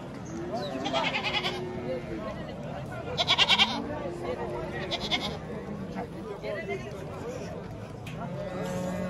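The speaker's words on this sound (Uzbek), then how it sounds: "Sütlü echkidan o'xshaydi shular." Goats bleat repeatedly in a goat and sheep market in Jany-Nookat, with several loud, quavering calls standing out over steady background chatter and people talking nearby.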